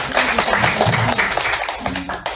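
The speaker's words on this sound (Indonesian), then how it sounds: "tepuk tangan untuk kita semua" Applause from a group of children and adults at a charity gathering in an orphanage, dense steady clapping for a couple of seconds with voices mixed in.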